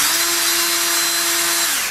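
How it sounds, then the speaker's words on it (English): A power drill drives a screw into a TV antenna mount, one loud continuous whine holding steady for nearly two seconds before winding down, heard close and alone. "I'm gonna hold my drill at an angle right here."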